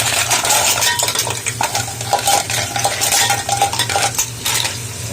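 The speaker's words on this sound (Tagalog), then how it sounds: "Igisa natin." Shellfish shells stirred and sautéed in a metal pan, with loud clattering scrapes of utensil against pan and shells over a low, steady sizzle, continuous throughout.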